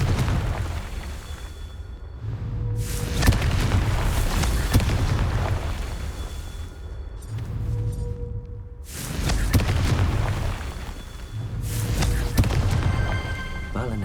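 The Confringo blasting spell detonates repeatedly in Hogwarts Legacy, several loud booming explosions with crackling bursts arriving in waves about every few seconds, separated by quieter rumbling stretches.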